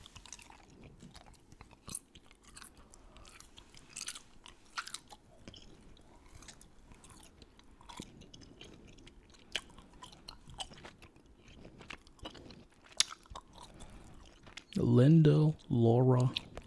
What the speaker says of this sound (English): I'm going to be chewing some gum